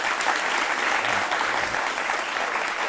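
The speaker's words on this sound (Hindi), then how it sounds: "एक तालियां बजाओ आप लोग" Steady applause from an audience at a Ram Mandir celebration event in Ayodhya, dense continuous clapping that holds at an even level for about three seconds with no voices on top.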